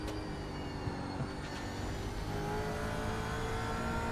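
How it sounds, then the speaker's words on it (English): Several V8 Supercar engines roar together in an iRacing race at Suzuka: a steady, dense, mid-loud drone of revving motors with rising pitch sweeps, no voices. "Just listen to those engines roar."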